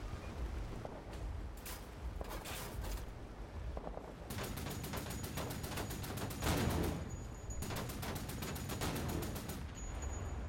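Dense gunfire in Wolfenstein: The New Order, with rapid machine-gun bursts running through most of the stretch over steady battle noise, loud and continuous with no voices.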